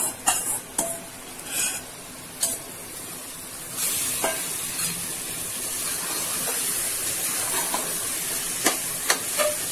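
Mutton sizzles steadily in a pan with onions and masala for a Tamil mutton kulambu, a continuous frying hiss broken by scattered clicks and scrapes of stirring, close and fairly loud with no talk.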